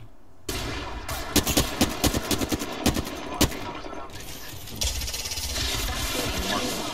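Shotgun fire in the video game Apex Legends, a loud close burst of repeated sharp shots in quick succession, followed by a lingering rumbling mechanical background.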